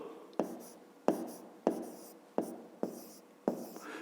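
A pen or pencil writes numbers on paper, six sharp strokes in a steady rhythm, each a crisp scratch that fades quickly, close and fairly quiet with no talk.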